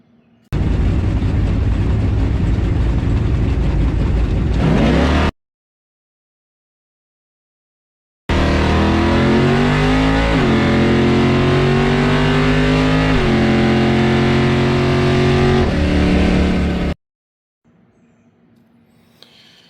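From inside a drag race car on the strip, the engine roars at full volume through a hard launch, and its pitch climbs and drops with each gear change. After a few seconds of silence, a second long, howling pull follows.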